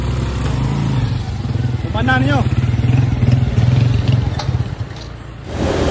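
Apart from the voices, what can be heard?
motorcycle engine running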